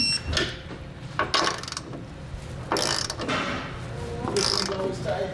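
A 15 mm socket tightens hardware on an EcoHitch hidden trailer hitch receiver, giving repeated ratcheting clicks and metallic rattles in short bursts, close by and moderately loud.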